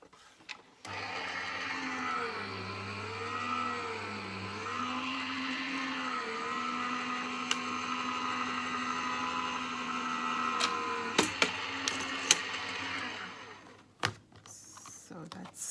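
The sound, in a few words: Gemini Junior die-cutting machine cutting card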